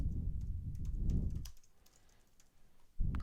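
Close computer keyboard typing as a search name is entered, a rapid dense run of key clicks for about a second and a half, a lull of quieter taps, then another quick burst of keystrokes.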